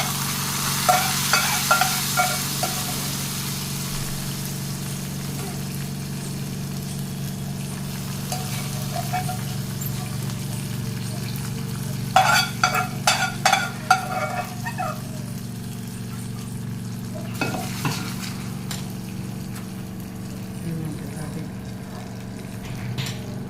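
Mustard seeds, cumin, curry leaves and chana dal frying in hot oil at a home kitchen stove, a steady low sizzle with a hum beneath, scattered sputtering pops early on and a brief cluster of louder clinks and crackles midway.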